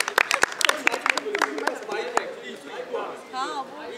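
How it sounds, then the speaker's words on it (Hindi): Applause and scattered clapping from a studio audience at a comedy show launch, sharp claps early that fade into crowd chatter and a speaking voice. "तो जोरदार खुद ही तालियां।"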